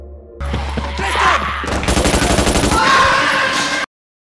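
Soldiers fire guns in a zombie film. A low rumble gives way to rapid, loud bursts of automatic gunfire that rattle on for about two seconds before cutting off abruptly into silence.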